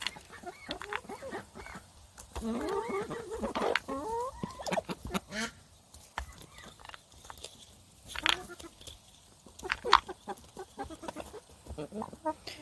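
Molting chickens cluck and murmur nearby in an uneven stream, with occasional louder squawks and scattered rustling, with no clear talking.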